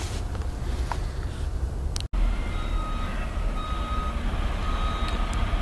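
A propane delivery truck backs up some distance away, its reversing alarm sounding a steady series of evenly spaced beeps over a low rumbling background.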